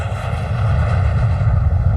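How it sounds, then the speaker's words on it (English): A passenger airplane in flight gives a steady, loud, even engine drone with a broad rushing roar, continuous and unchanging throughout, with no talking. "Douglas was on the next plane to Buffalo."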